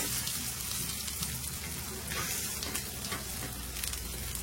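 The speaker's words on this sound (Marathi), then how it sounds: "आता इकडनं पण मी 5-7 सेकंद जरा शेकून घेते" Rice-flour and coconut milk ghavan, a Kokani pancake, roasting on a hot pan gives a soft, steady, low sizzle and crackle that runs throughout with no voices.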